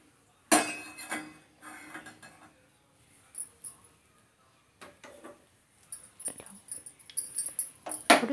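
Bowl handled in a home kitchen while making filter coffee, a sharp clink then scattered light knocks and scrapes of dishes and utensils, close but quiet, with brief pauses between.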